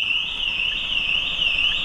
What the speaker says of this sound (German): Alarm wird generiert.